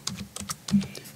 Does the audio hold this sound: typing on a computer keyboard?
yes